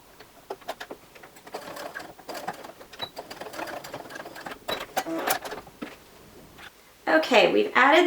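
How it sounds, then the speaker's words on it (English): Close sewing machine stitching elastic onto fabric in short uneven bursts, with clicks and rustling of fabric, ending with a louder whirring run. "let's go over to the sewing machine and do that"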